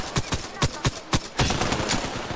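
Gunfire in the battle royale game Apex Legends: a rapid string of sharp, loud shots in quick bursts, followed by a denser burst of fire.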